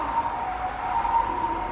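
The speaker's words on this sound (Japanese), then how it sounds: "あ、救急車通った。" An ambulance siren passing by in the street, a steady wailing tone heard clearly and fairly close without talk over it.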